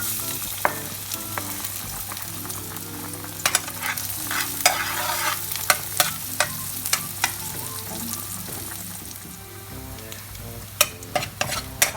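Garlic sautéing in hot cooking oil in a pan for ginisang upo, with a steady close sizzle broken by repeated sharp scrapes and taps of a utensil stirring, no talking.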